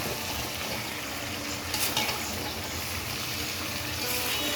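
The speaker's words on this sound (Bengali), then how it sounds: "চিকেনগুলো দিয়ে দিব চিকেনগুলো দিয়ে দিলাম" Chicken pieces sizzle in a pan on a home stove while being stirred, a steady frying hiss with occasional scraping and clinks of the spatula against the pan, heard up close without talking.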